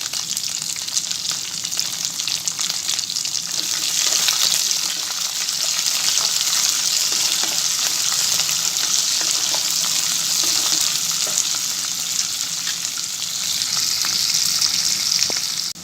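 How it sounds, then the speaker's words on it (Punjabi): Chopped onions and green chilies frying in a pan for sambar, a loud, steady sizzle with crackling bursts that holds throughout, no voices. "ਹੁਣ ਅਸੀਂ ਆਪਣੇ ਕੱਟੇ ਹੋਏ ਪਿਆਜ਼ ਇਸ ਵਿੱਚ ਪਾਵਾਂਗੇ ਨਾਲ ਹੀ ਅਸੀਂ ਇਸ ਵਿੱਚ ਹਰੀ ਮਿਰਚ ਪਾ ਦੇਵਾਂਗੇ"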